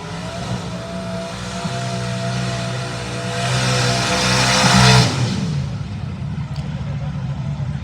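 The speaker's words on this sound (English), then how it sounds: "Man, that guy knows how to do a burnout." A race car at no-prep grudge racing holds a loud, sustained burnout, its engine droning high and rising to a peak before dropping away, while voices talk over it.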